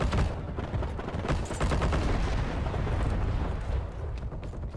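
Dense, continuous gunfire from the video game Heroes & Generals, rapid overlapping shots and bursts filling the whole stretch at close range, loud and unbroken with no talk.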